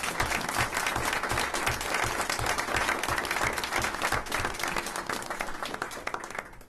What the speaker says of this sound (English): So I'd like to give all classified employees a round of applause,